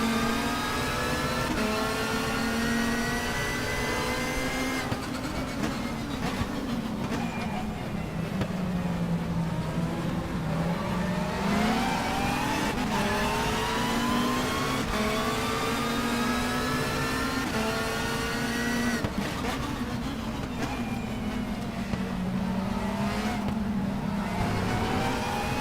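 A BTCC Super Touring race car in the Race 07 video game, circuit Laguna, drones loud and close, the engine pitch climbing and dropping through gear changes and braking, with tyre noise underneath and no talk.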